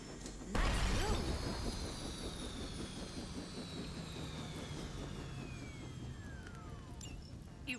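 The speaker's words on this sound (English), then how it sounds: "You've grounded the helicopter." In the Marvel Midnight Suns video game, a grounded helicopter's engine whines and descends in pitch after a sudden impact burst, with a steady mechanical rumble continuing at moderate level.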